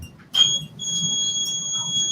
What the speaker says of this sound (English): You gotta walk around twice and turn off the low flow alarms.